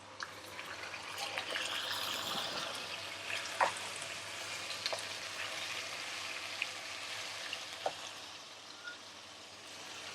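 Minced meat (keema) frying with onions in a pan gives a soft, steady sizzle and faint crackle, heard alone with occasional light clicks of a utensil.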